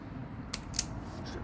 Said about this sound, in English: Got the wire all plumbed to run to length. We'll go ahead and cut that.